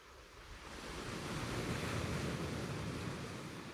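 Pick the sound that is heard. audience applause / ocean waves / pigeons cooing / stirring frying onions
ocean waves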